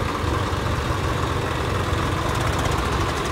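Several tractors, including Swaraj 855 and John Deere 5210 models, idle together at a tractor drag race, giving a steady, loud, continuous low engine rumble with no pauses.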